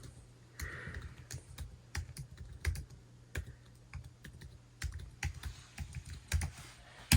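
Fingers typing a username and password on a computer keyboard at a studio control station, a quiet, close run of irregular key clicks with a few brief pauses.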